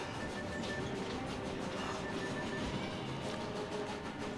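A train in the video game Killer is Dead rumbles in a steady, dense roar with faint rhythmic rattling, continuous and even throughout, with no talk.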